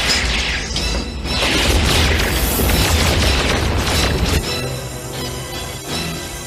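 A cartoon explosion destroys the Dragonfire command center: a loud, rumbling boom with crashing debris that rolls on for several seconds before easing into a lighter, ringing tail.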